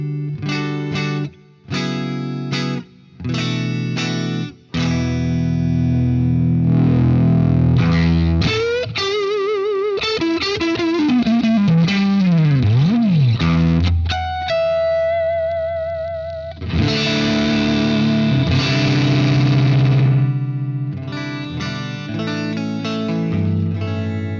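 Electric guitar on the neck pickup played through a Marshall amplifier at the Marshall factory, loud distorted chords and stabs followed by bending lead lines and sustained notes, played alone.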